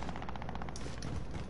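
Rapid automatic gunfire in a shooter video game, a fast steady burst of shots for about a second followed by a couple of heavier, sharper blasts, loud and close with no talking.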